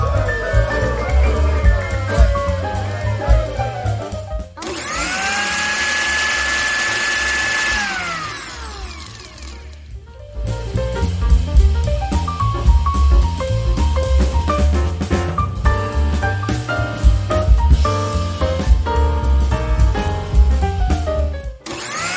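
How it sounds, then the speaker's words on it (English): Mixie grinder grinding soaked idli batter in the kitchen, a loud motor whine that starts, holds steady for a few seconds, then cuts out, surrounded by clattering, knocking and handling of the jar. "Now let us grind this in mixie."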